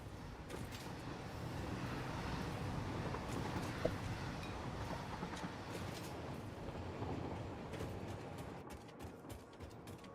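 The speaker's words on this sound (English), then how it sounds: "I can hear this train behind me." A train rumbles past in the factory-building video game Satisfactory, a steady low clattering roll at moderate distance that fades slightly toward the end, with no voices.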